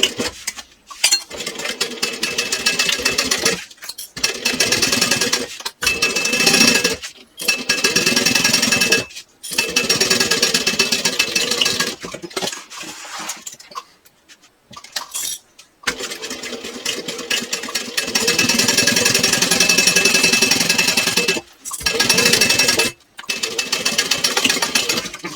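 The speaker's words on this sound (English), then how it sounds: "Now I'm going to sew a seam allowance using a 1/4 inch seam" A sewing machine stitches a 1/4 inch seam through fabric panels, its loud, rapid mechanical whirring running in long bursts separated by short pauses, close up, with no talking.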